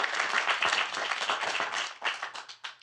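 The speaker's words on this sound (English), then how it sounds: "You can clap for that." Audience applause during a political speech on the economy for union workers and retirees, a dense wash of many hands clapping that gradually thins out into scattered claps.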